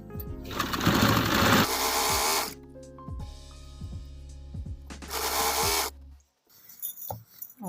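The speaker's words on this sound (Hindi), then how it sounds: "इस तरह ऑल अराउंड हम ये तमाम सिलाई अपनी कंप्लीट कर देंगे।" Sewing machine stitching elastic onto trousers, running in loud buzzing bursts with short pauses and light mechanical clicks between, close up and with no talking.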